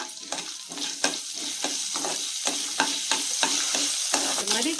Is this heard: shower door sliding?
no